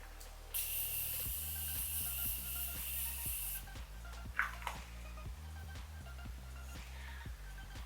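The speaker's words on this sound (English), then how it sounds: "I'm gonna go ahead and spray my face." Face mist sprayed onto skin in one long, steady hiss of about three seconds, close and fairly soft, followed by a short second puff, with a low hum running underneath.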